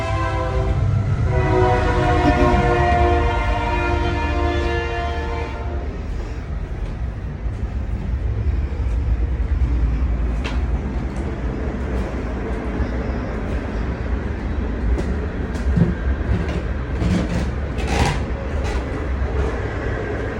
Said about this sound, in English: So I will let you guys listen to the train.